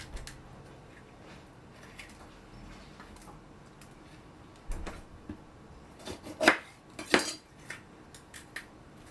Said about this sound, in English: Slice your peppers in stripes.